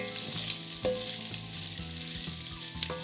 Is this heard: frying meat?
yes